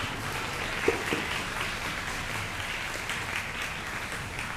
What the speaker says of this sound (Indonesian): Kita beri tepuk tangan dulu buat para bapak ibu komite kita.